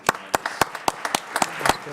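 A small audience at an Essex County Freeholders Women's History Month event gives a short round of applause, about a dozen separate claps in a loose, uneven rhythm, close and moderately loud with no talking.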